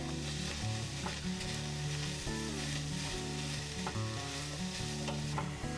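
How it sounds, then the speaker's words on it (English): Hamburger sautéing in olive oil in a stock pot, a dense continuous sizzle with repeated scraping and clinks of a utensil stirring against the pot, close up and without talk. "Just sauteing it up a little bit before we add the liquids"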